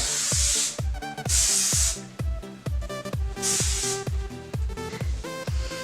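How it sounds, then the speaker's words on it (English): Hairspray hisses from an aerosol can onto hair in three short bursts, each under a second, over a backdrop of rhythmic plucked music. "Shake up the hairspray."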